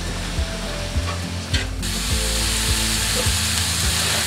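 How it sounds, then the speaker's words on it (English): Chopped onion and ground sausage sautéing in a pan, a loud steady sizzle broken by a series of regular scraping strokes from a utensil stirring the mixture. "we're just going to stir this around and let the flavors kind of cook in with the meat"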